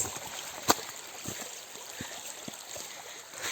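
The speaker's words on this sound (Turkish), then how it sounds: "Yine ufak bir dere geçişi ıslanmadan geçebiliyoruz." Small stream on a hiking trail at Patlak Pınarı near Kemaliye, steady close trickling and gurgling water with light splashes as it is crossed, one sharp knock standing out.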